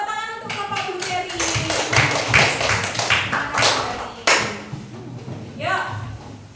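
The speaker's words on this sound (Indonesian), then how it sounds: "Tepuk tangan untuk kelompok blueberry." Classroom of pupils clapping for a group, a burst of scattered, uneven hand claps with overlapping children's voices, fading out before a teacher's voice speaks at the end.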